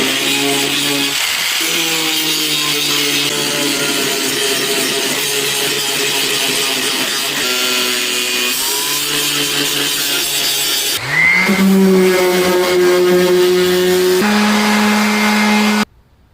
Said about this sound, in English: I found the best method was to use a wheel grinder to grind off the plastic